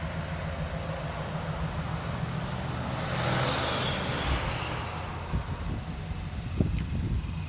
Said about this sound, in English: What I like about the Magnaflow is it's not too loud, too not raspy, it's just a clean, deep sound.